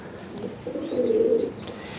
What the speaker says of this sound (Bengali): লাল সাদা বড় পায়রা একটা সিঙ্গেল নর